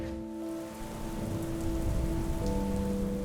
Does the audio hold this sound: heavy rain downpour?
yes